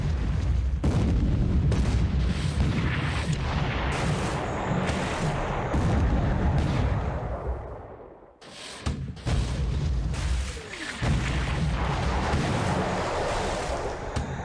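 Naval gunfire and shells hitting warships in a video game, with repeated booming blasts over a continuous rumbling wash like surf, loud and dense, easing briefly before the firing resumes.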